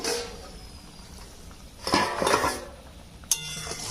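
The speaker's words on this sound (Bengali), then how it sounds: "দিয়ে ঢাকা দিয়ে দেবো আমাদের এবার খুলে দেখাবো" A metal pot lid clinks and clatters as it is lifted off fish curry simmering with cucumber and potatoes, with a cluster of rattles midway and one sharp clink near the end, over quiet background hiss.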